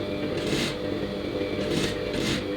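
Sewing machine stitching a frill onto the edge of a saree blouse, giving a soft steady mechanical whir with three short bursts of higher rasping noise, fairly quiet and heard alone.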